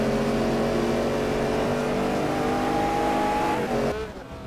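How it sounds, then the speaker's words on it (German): V8 race car engine roaring flat out down the straight in a sim racing game at Suzuka, loud and sustained with a steady high pitch, then cutting off abruptly near the end. "Möbus weiß, dass er sich auf der Geraden auf seinen V8-Motor verlassen kann"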